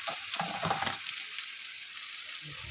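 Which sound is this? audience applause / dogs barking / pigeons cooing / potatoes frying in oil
potatoes frying in oil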